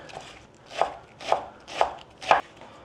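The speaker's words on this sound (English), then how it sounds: "you're just cutting it down so that it's going to fit well with that cheese" A knife chops leafy greens on a board for a lasagna filling, five crisp, evenly spaced chops close by with quiet gaps between them; no one speaks.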